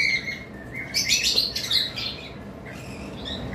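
High-mutation lovebirds chirp in a steady run of bright, close tweets and short squawks, with a few rosella calls possible among them and no talking.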